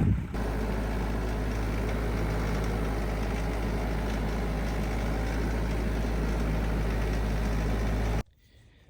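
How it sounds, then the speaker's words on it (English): A heavy tractor engine idles with a steady low rumble for several seconds, then cuts off abruptly, leaving quiet background. "let's jump on the tractor, hurry and get this stuff moved"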